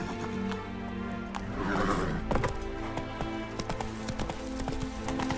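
Horse hooves gallop in The Witcher 3 game, a steady rapid clip-clop run that continues throughout amid game sound and a brief whinny.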